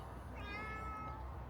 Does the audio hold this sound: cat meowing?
yes